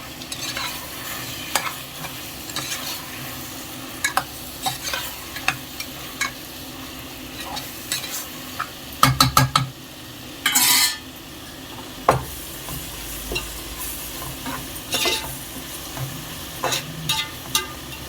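A spoon stirs ginger garlic paste through mutton curry for a Konaseema-style raw cashew and drumstick dish, with a low frying sizzle under intermittent scraping clinks against the pot, a few louder bursts mid-way.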